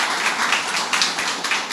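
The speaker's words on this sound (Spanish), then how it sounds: "Un aplauso también para ellos." An audience at a talk gives a short burst of applause, crisp individual claps overlapping in a lively, uneven patter close by.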